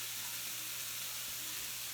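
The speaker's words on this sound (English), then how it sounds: "That's still sizzling" Food for lasagna sizzles steadily in a hot pan, a continuous close, even crackling hiss with no pauses and no voices.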